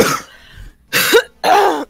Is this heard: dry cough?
yes